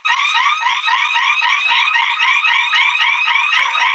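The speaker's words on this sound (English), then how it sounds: "This fucking alarm is tricky as hell in here, man." An alarm blares indoors in a room, a loud, continuous warbling electronic tone that repeats rapidly and stays close and unbroken throughout.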